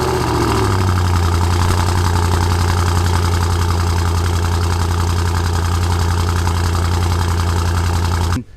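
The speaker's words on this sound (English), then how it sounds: "Full Miltech exhaust system, and it sounds a little something like this." Car engine with a full Milltek exhaust system idling, a loud, deep, steady rumble held for about eight seconds before cutting off abruptly at the end, with no voices.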